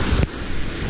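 Thundering Falls, a rain-swollen waterfall on the Appalachian Trail in Vermont, roars as a steady broadband wash, with a brief louder gust of wind or handling at the start.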